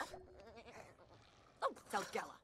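Goats and sheep bleat in The Sims 4 ranch life, with several wavering calls in quick succession close by, followed by louder bursts of activity; talk runs alongside.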